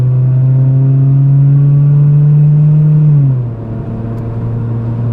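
A small car, a Ford Probe or Chevy Citation, drives along the road with a steady mid-pitched engine drone that drops in pitch as it shifts or eases off, continuous and close with no talking.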